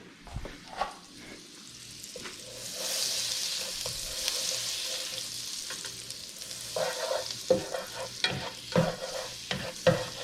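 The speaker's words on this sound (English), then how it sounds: "Let's get that butter melting" Butter melting and sizzling in a frying pan for egg fried rice: a continuous crackling sizzle, joined by scraping stirs and light clanks of a utensil against the pan, close and moderately loud with no talking.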